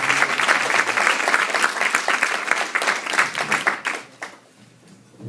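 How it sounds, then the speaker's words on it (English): Dense, loud audience applause with a cheer or two at a hip hop event, sustained for several seconds before tapering off quickly near the end. "Let's get a round of applause for Farah and for Ramzi."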